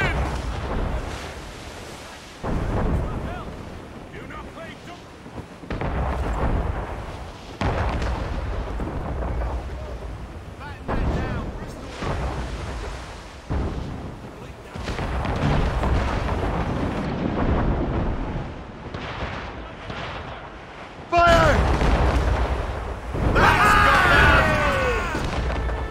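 Heavy booming ship cannon volleys in the video game Assassin's Creed Rogue, repeated deep blasts rolling one after another across the whole stretch, loud and near, with shouted crew voices mixed in toward the end.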